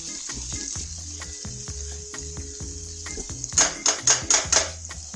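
Onion, green peas and grated ginger sauté in a pan, giving a steady loud sizzle under rhythmic metallic clatter. A quick run of sharper utensil strikes against the pan follows near the end.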